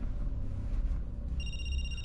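A telephone rings in a quiet interior, a steady bell tone with a trilling pulse running under low background hum.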